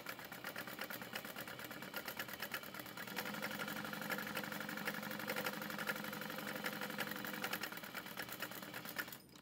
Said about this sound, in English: Otherwise, we're gonna baste these all together,